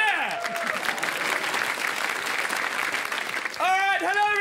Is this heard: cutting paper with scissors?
no